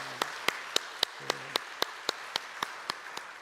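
A church congregation claps in unison for the choir during a Sunday worship service, about a dozen sharp, evenly spaced claps on a steady beat over a quiet room.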